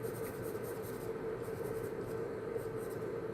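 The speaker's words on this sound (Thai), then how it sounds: "จากนั้นก็ เขียนด้านข้างลักษณะแบบนี้นะครับ" Pencil strokes on paper while sketching a nose, a quiet continuous scratchy rubbing with faint rhythmic pulses of short strokes, close and soft with no talk.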